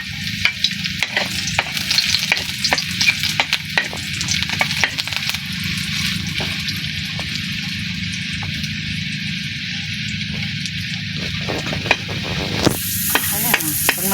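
Food sautéing in a pan for ginataang suso, a loud continuous sizzle packed with rapid crackles and frequent scraping stirs, close and steady throughout.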